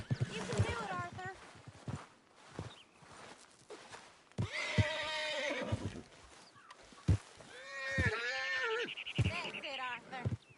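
A horse in the video game Red Dead Redemption 2 lets out several loud, close whinnies and snorts in bursts, mixed with game sounds and a voice.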